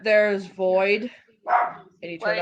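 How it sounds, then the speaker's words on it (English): Pet Chihuahuas bark in the background of an indoor room, with a few short, high yaps mixed in with a person talking nearby. "I apologize for the barking in the background."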